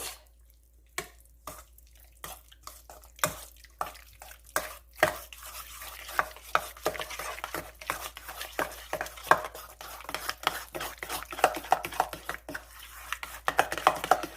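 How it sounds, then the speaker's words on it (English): A spoon stirs an egg into ricotta and salt in a bowl, a quiet, rapid series of wet slaps and clicks that grows busier and denser as the mixing goes on. "Mix that egg in there with the ricotta and the salt."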